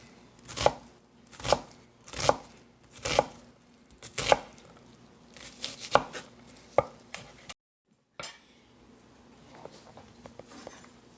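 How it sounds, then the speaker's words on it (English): A knife chops shrimp cocktail ingredients on a cutting board in a kitchen, with about eight crisp, evenly spaced strikes, close and distinct, then a brief pause and softer scattered taps. "And then what I'm going to do for chopping is I'm going to do like a claw and not let that blade nick me"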